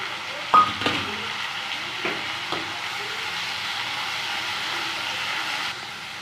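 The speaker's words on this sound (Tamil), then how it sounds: "இப்போ வெங்காயம் தக்காளி எல்லாமே நல்லா வதங்கிடுச்சு" Onions, tomatoes and curry leaves sauté in a pan for a spicy South Indian kara chutney, a soft, even sizzle that runs throughout after a few early clinks of the spoon.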